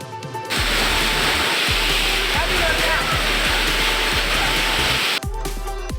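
Suruli waterfall, reached through forest near Theni, pours with a loud, steady rush of falling water that fills the whole scene without a break, broken only by faint low thuds.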